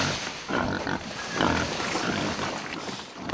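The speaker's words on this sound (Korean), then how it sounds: "성찬을 즐기는 돼지들" Pigs on a rural Korean farm, kept in an old cattle shed, grunt and snort steadily while feeding on rice bran, a dense overlapping chorus of rough grunts at close range.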